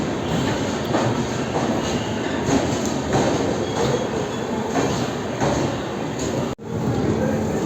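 The Basava Express pulls out of Solapur railway station from platform 3, a steady loud rumble and rattle of wheels and carriages rolling continuously with faint squeals, briefly cut off near the end.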